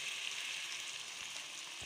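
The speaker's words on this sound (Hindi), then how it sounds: "अदरक लहसुन को भी अच्छी तरह से भूनेंगे।" Ginger garlic paste frying with onions in a hot pan, a steady soft sizzle and crackle, close and fairly quiet, with no talking.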